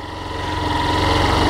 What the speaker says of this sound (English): bringing a little lively hum up, so I'm bringing the revs up